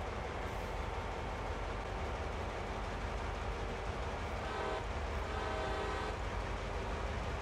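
A simulated train backs up with its reverser in reverse in Train Sim World, giving a steady, loud rail rumble with horn-like tones sounding partway through.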